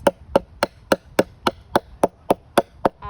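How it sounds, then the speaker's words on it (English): A hammer strikes the seam allowance of beaded fabric in about eleven sharp, evenly spaced blows, each a crisp crack with a short ringing tail, close and loud with no talking. "you just have to hammer the seam allowance."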